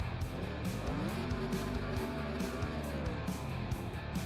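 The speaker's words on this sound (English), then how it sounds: "And we'll have him do his burnouts." A race car doing victory burnouts at Charlotte Motor Speedway, a steady loud roar of engine and squealing tires with no pauses, the tire screech carried along in a dense, continuous wash.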